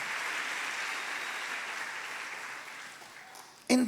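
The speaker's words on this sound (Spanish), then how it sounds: "Demos un fuerte aplauso a Jesucristo" A church congregation applauds loudly and steadily, the clapping gradually thinning out before a voice cuts in at the very end.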